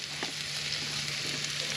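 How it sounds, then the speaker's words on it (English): Fish frying outdoors on a hot surface gives off a steady, dense sizzle, close and continuous, with a few faint pops and stirring scrapes and no talking. "let me show you this sizzle when it happens. Check this out. Sizzle, baby."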